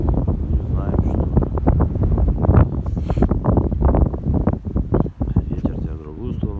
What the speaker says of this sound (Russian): Ветер тебя в другую сторону дует.